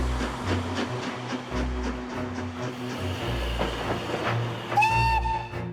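A steam train runs with heavy rhythmic chuffing and rumbling, then lets out a loud, sustained whistle near the end, with no voices.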